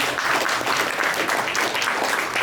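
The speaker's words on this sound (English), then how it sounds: "big round of applause for him, ladies and gentlemen" An audience at a Matrix Fight Night press meet at the Taj applauds, giving a dense, even wash of clapping that holds steady at a fairly loud level throughout.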